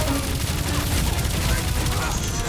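Video game gunfire rattles as a dense, continuous fusillade of overlapping shots, loud and unbroken for the whole stretch, with game noise layered underneath.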